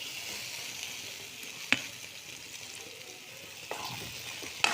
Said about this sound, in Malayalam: ഇനി ഇതിലേക്ക് അരിഞ്ഞു വെച്ചിരിക്കുന്ന വെണ്ടയ്ക്ക ഇട്ട് കൊടുക്കാം.